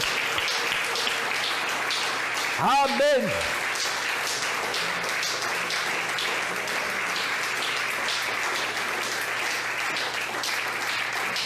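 Church congregation applauding during a Spanish-language sermon, a steady wash of clapping throughout with a short spoken exclamation partway through.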